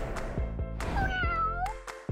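A kitten meows several times in quick succession, close and fairly clear, with short rising and falling cries and no talk.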